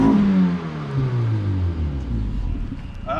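An old car with a manual transmission starts up and idles nearby, its low rumbling engine rising into a revving swell before settling, close and loud throughout.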